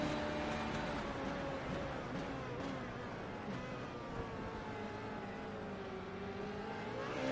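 Onboard race car engine from a racing video game at Monza, droning steadily at high revs through a slipstream run toward turn one, with shifting engine tones held at a constant moderate level throughout.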